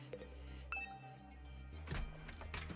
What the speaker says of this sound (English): another sound echoed through my room. The doorbell.